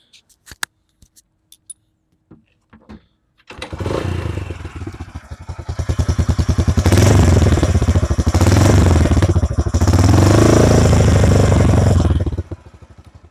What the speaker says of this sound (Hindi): जिस चीज़ से सबसे ज़्यादा मुझे नफरत है ना, वो है इस बाइक का साउंड